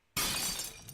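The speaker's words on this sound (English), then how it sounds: "One of the captors threw it and it collided with the barricade, smashing it into pieces." A glass bottle smashes against a barricade in a video game, one sudden loud shattering crash that sprays bright fragments and then rings out briefly.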